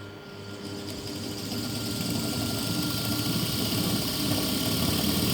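A DC shunt generator in a lab setup spins steadily at about 1500 RPM, giving a continuous close mechanical hum and whine that builds slightly in loudness and then holds level.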